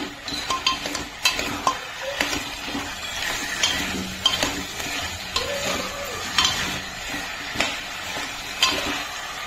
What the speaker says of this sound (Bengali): বাড়িয়ে আবার একটু ভালো করে নাড়িয়ে চাড়িয়ে নেবো।